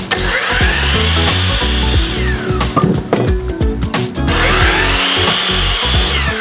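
Power saw cutting wood boards for trim around crown molding, two loud whining cuts rising and falling at the start and end with clattering and handling noise between, close and dominant.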